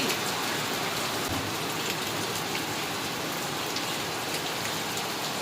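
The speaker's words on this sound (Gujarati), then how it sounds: "બહુ જ વરસાદ પડે આ તો" Heavy rain pours down in a dense, constant hiss of drops striking surfaces, loud and unbroken.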